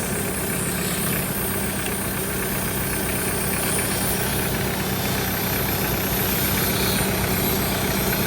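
A Mitsubishi Pajero engine runs at a steady idle with the AC compressor engaged, a loud, continuous rumble and hum with a faint mechanical knock, close by and with no speech.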